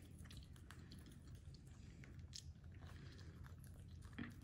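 A Quaker parrot bites and chews a piece of bell pepper up close, with faint, quick crunching and squishing pecks in a soft, quiet rhythm.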